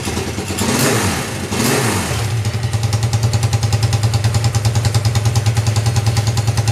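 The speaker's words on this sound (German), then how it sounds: "Das ist die erste, die ein bisschen nach Motorrad klingt" A chopper motorcycle engine fires up loud and close, then settles into a steady, throbbing rhythmic run with revving, no voices over it.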